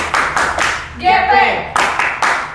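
A GPIB church youth group in Bandung claps in sharp, tight unison bursts that frame a brief shouted group chant in the middle.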